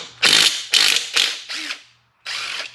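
A socket ratchet works the inner primary bolts on a Harley Davidson, five loud, rapid ratcheting bursts, each a buzzing run of pawl clicks, separated by brief gaps with no talking.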